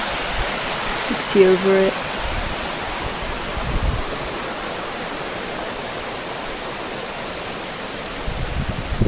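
A waterfall rushes in a steady, dense wash close by, heard from behind the falls, with a person briefly speaking over it near the start.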